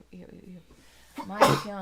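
A single sharp sneeze bursts out at close range right after a few quiet spoken words, loud and brief.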